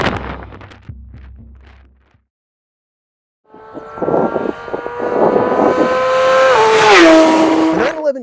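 A Porsche 911 GT3 RS accelerates hard during a 0-150-0 speed test, its engine rising loudly through the revs with a shift-like dip near the end, after a brief stretch of quieter road noise and a short silent gap.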